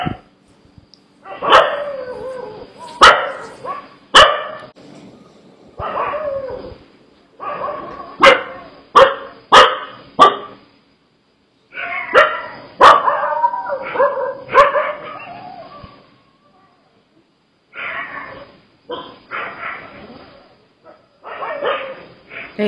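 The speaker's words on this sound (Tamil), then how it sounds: "அதுவங்கள பார்த்து தான் நாய் குலைக்குதா?" A dog barks repeatedly, sometimes in quick bursts and sometimes in single yips, with short pauses between groups, fairly close and clear against a quiet background at night.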